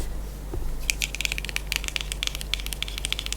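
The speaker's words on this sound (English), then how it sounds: "Kind of like that it's a bit of a different tapping sound." Fingertips tap quickly on the smooth matte cover of a hardback book, giving a close, crisp series of light clicks in irregular bursts over a quiet background.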